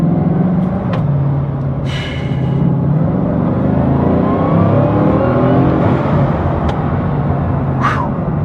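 Bugatti Divo with its W16 engine, driven on the road, gives a loud, steady roar that swells and revs throughout, with faint whooshes passing over it and no talking.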